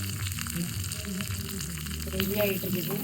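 Curry leaves fry in hot oil as a tempering for Kanyakumari-style fish curry, giving a steady close sizzle and crackle throughout while a voice talks over it.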